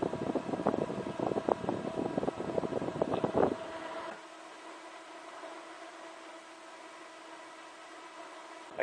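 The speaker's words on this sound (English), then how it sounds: "This, by the way, is a Biosand fan. They're about twice as fast as your standard fan." A Biosand DC fan, about twice as fast as a standard fan and pushing a lot of air, blows in a DIY stack boot air heater build. A loud rough whoosh with rattling gives way after four seconds to a softer, steady airy hiss.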